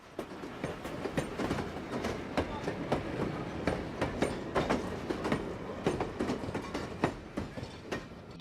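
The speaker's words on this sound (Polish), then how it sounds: "Witamy z powrotem na pokładzie krajobrazowego pociągu na trasie." Scenic train running on the Ella–Kandy–Colombo line in Sri Lanka, heard from inside the carriage with continuous rumbling and rhythmic clickety-clack of wheels over rail joints, occasional light squeals, steady and fairly close.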